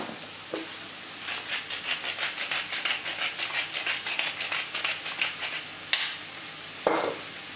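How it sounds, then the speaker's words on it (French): Seasoned mushrooms fry in a pan over fairly high heat while being stirred, producing a close, rhythmic series of scraping strokes over a steady sizzle, with a couple of sharper knocks near the end and no talk. "À feu assez vif, il faut que les champignons rendent un maximum d'eau"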